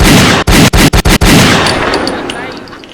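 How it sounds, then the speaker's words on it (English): A burst of five sharp gunshot sound effects fires in quick succession at close range, loud and abrupt, followed by a decaying rumbling tail that fades over a couple of seconds with no talk. "Let's get a gunshot."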